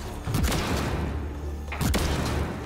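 Shotgun blasts in the video game Mass Effect Andromeda, two heavy booming shots about a second and a half apart over continuous game ambience, each with a deep thump.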